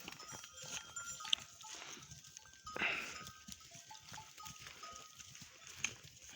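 Sheep bleat sporadically at a distance on open snowy highland pasture, with faint rustling and other animal calls in between.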